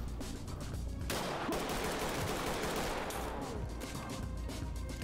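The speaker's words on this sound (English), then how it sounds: "Bad shooting, but I got him." Gunfire from the tactical police shooter Ready or Not, a dense burst of rapid shots that dominates the clip after a brief quieter opening, loud and close with no talk.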